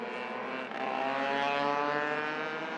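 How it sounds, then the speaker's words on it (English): A racing kart with a faulty exhaust passes during a junior or OK class race at the FIA Karting World Championship in Franciacorta, Italy, giving a steady, buzzing engine drone that rises slightly as it goes by. "Sounds to me as though somebody's got a problem with their exhaust as they come through."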